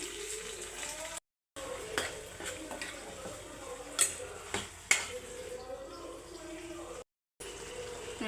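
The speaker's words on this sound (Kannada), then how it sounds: "ಎಣ್ಣೆ ಹಾಕ್ಕೊತಾ ಇದ್ದೀನಿ ಸಾಸಿವೆ ಬೆಳ್ಳುಳ್ಳಿ ಕರಿಬೇವು ಟೊಮೊಟೊ ನೋಡಿ ಇವಾಗ ಜೀರಿಗೆ ಹಾಕ್ಕೊತ ಇದ್ದೀನಿ" Mustard seeds, garlic, curry leaves, tomato and cumin go into hot oil in a pan for tempering, heard as close metal spoon clinks and pan scrapes over a light sizzle, broken by two short silent gaps.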